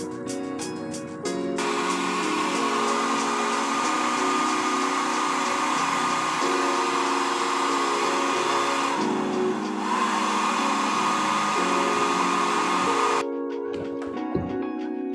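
A small electric motor hums steadily with a tonal whine for several seconds, briefly dipping once before cutting off abruptly, switched on when temperature exceeds 41 degrees Celsius.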